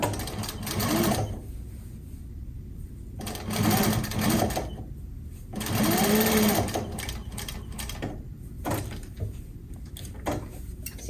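A sewing machine stitches the seam of a box cushion slipcover in several bursts, loud and close, with quieter handling pauses between runs.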